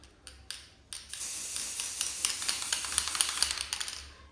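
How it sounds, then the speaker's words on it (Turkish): Spray paint can hissing onto a recycled key-holder craft project, a few short bursts and then a long continuous spray, close and fairly loud with no talking. "iki karış falan uzaktan spreylemeniz lazım"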